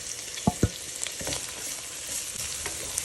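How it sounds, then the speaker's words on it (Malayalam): Crushed ginger, green chilli and garlic sizzle steadily in a hot pan, with a couple of sharp clinks of a spoon early on and soft stirring scrapes over a constant frying hiss, close up and no talk. "ഇഞ്ചി, പച്ചമുളക്, വെളുത്തുള്ളി ചതച്ചതിട്ട് കൊടുക്കുകയാണ്."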